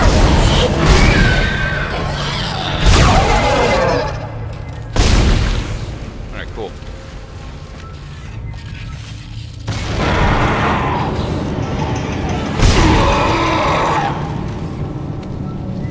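Gunshots in the Dead Space video game, with several heavy, booming blasts spaced a few seconds apart over the game's ambient soundtrack, while a player talks between shots.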